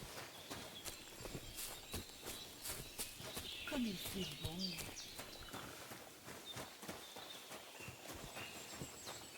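Hooves of a cart horse clip-clop along a road in the medieval video game Kingdom Come: Deliverance II, a steady walking rhythm of hoof strikes with faint birdsong, while a person speaks briefly partway through.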